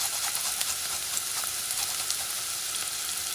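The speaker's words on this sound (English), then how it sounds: "Make sure you stir things around because you don't want the garlic to burn." Minced garlic sizzles steadily in a hot pot as the base for Louisiana-style beans and rice, a dense close frying hiss with faint stirring ticks and no voices.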